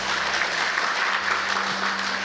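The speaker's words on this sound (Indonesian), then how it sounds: "Tepuk tangan untuk istri saya." A church congregation at a Sunday worship service bursts into steady, dense applause, loud and sustained throughout, with no pauses.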